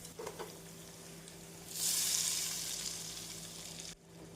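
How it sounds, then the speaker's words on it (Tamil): Garlic fries in oil over a medium flame for tomato pickle, a soft sizzle that swells into a brighter, louder hiss partway through, then cuts off abruptly near the end. "நாம் மிதமான தீயில் பூண்டை நன்றாக வதக்க வேண்டும்."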